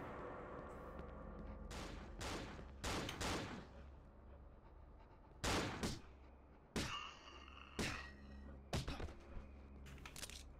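Enemy gunfire in the horror game Cry of Fear arrives as sharp, separate shots and short clusters of cracks over a low, steady background hum. The shots are spaced irregularly and vary from moderate to loud.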